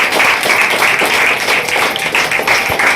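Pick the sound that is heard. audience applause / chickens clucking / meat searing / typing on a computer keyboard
audience applause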